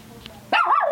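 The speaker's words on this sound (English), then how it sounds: "we got the dog barking in the background" After a quiet moment, a dog lets out one sudden, drawn-out bark that wavers up and down in pitch, loud and close.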